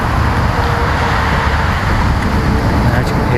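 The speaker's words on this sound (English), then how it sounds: "And as you can hear the highway behind me." A steady roar of highway traffic carries behind a walking track in the early morning, a continuous broad rumble with wind noise and no distinct passing vehicles.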